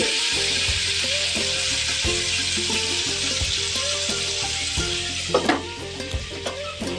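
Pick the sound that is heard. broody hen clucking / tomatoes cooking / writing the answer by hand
tomatoes cooking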